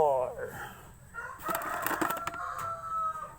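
Chickens cluck and squawk close by, a few bursts of clucking with a brief flutter of wings, while a person talks over them.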